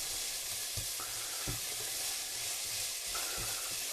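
Onions fry in a pan with a sprinkle of salt, giving a loud, continuous sizzle with occasional soft stirring scrapes and no talking.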